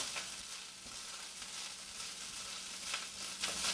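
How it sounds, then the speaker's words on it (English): A spoon edge scrapes across the bottom of a skillet while hamburger meat browns, the steady frying sizzle running throughout with faint scraping strokes mixed in. "I'm just taking the edge of my spoon and kind of scraping the bottom of the skillet to get the part that got stuck off of there"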